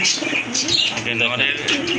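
Large Indian Lotan pigeons cooing close by in a loft or market setting, soft repeated throaty coos mixed with a few chirps over a busy background.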